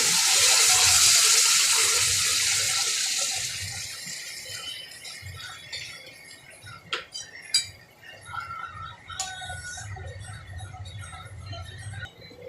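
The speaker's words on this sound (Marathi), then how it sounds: "त्याच्यामध्ये आपण आता गरम पाणी टाकून घेऊया." Hot water poured into fried masala for a Halwa fish curry, a loud hissing splash for the first few seconds that fades into quieter bubbling, clinking and scraping in the pan.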